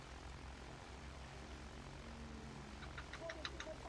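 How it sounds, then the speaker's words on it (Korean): Propeller airplane passing in Battlefield 1 multiplayer, its engine droning faintly in the distance with a low steady rumble, while scattered higher clicks and pings of gameplay sounds cut in near the end. "비행기 또 있다"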